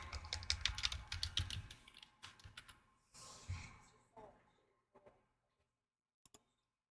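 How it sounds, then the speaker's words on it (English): Bursts of rapid keystrokes clatter on a close computer keyboard, loud and dense at first, then thinning into scattered taps and a final pair of clicks. "I'm just going to type in hello world."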